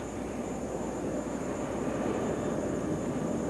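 A Lockheed S-3 Viking aircraft doing touch and go practice on a carrier, a steady loud broadband jet roar with a faint high whine, continuous throughout.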